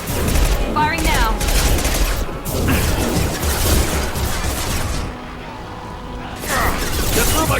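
Sustained video-game gunfire from Mass Effect 2, with loud rapid bursts and crashes filling most of the stretch, a short lull near the end before shooting resumes, and voices speaking over the action.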